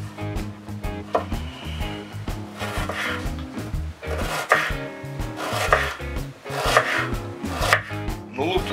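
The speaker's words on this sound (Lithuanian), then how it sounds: "Nuluptus svogūnus susipjaustome plonais užžydžiais." A knife slices peeled onions into thin slices on a board, giving steady, close, repeated chopping strokes with a woody knock and slight rasp, alone without talk.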